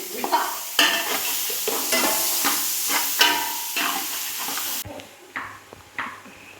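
A spoon stirs and scrapes masala in a pan for chicken biryani, with sliced onion added. Repeated close scraping strokes sound over a steady sizzle.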